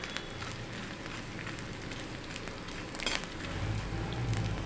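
Edible gum (gond) fries in hot oil in a home kitchen, giving a faint, continuous sizzle and crackle like light rain, with a few sharper pops and a slightly louder burst of frying near the end.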